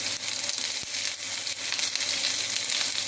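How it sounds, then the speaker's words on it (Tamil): Two onions go into hot oil for a simple cauliflower dish and fry with a loud, continuous, close crackling sizzle and one sharp tap, no talking. "எண்ணெய் சூடாகிடுச்சு கடுகு உளுத்தம்பூர் எதுவுமே போட வேண்டாம் சிம்பிளாக பண்ணிடலாம் ரெண்டு வெங்காயம் போடலாம்"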